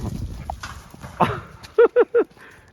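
Three quick, loud dog barks in a row near the end, preceded by rustling and movement, close by.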